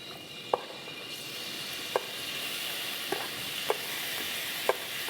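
Onions for shrimp saganaki sizzle steadily in a pan, a constant hissing fry with occasional soft clicks of a utensil stirring against the pan at irregular intervals.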